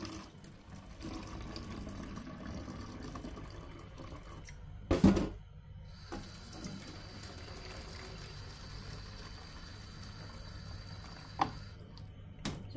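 Steady trickling water poured onto potted plants runs throughout, with a brief splashing burst around the middle and a faint low hum underneath.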